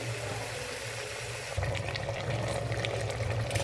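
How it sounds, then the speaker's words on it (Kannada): Water pours in a steady stream into a pan of spicy chicken gravy, starting abruptly partway through, a soft splashing rush over low background noise. "ಈ ರೀತಿ ಒಂಚೂರು ನೀರು ಬಿಟ್ಕೋಬೇಕು"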